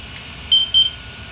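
A digital timer on a 3D printer bed temperature test beeps in two short, bright bursts spaced close together, standing alone over a faint background hiss.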